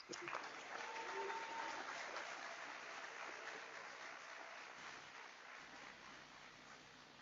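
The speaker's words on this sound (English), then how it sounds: "A bigger round of applause." Audience in a great hall at a university congregation ceremony applauding, a dense, sustained wash of clapping that slowly fades but keeps going throughout.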